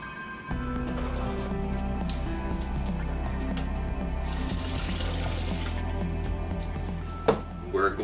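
Filtered water streams steadily into a measuring cup for several seconds while making vegan milk, a continuous splashing hiss that cuts off near the end, with a clink of dishes.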